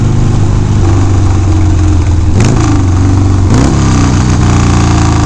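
Harley-Davidson Sportster 1200 motorcycle engine running loud and close, a steady rumbling idle broken by two sharp throttle blips that rise and fall in pitch.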